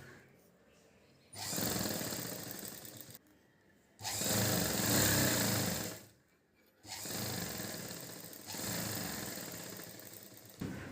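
A sewing machine runs in three long bursts, stitching the double-folded hem of a child's silk pattu pavadai skirt, its steady motor whir and rapid needle chatter loud and close, with brief quiet gaps between runs.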